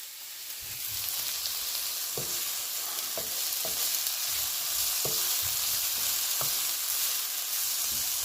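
Jerk shrimp frying in a pan make a steady, close sizzle, with occasional clacks of a utensil stirring and scraping against the pan and no talking.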